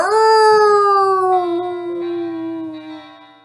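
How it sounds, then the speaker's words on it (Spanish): A long, mournful howl with clear sliding tones, starting strong and slowly falling in pitch and loudness over a few seconds, with no other sounds around it. "un aullido de terror se escuchaba en todo aquel oscuro bosque"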